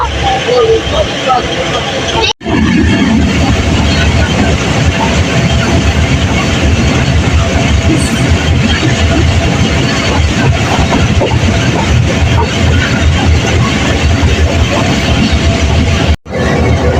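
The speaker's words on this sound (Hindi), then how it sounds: "फाइनली अभी ट्रेन यहाँ से निकल रही है" A passenger train pulls out of a station, giving a steady, loud rolling rumble and clatter that continues without a break, with brief dropouts near the start and end.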